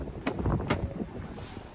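Gusty wind buffets the microphone outside a 2024 Ford Edge ST Line, a close, steady rushing roar with a couple of stronger blasts.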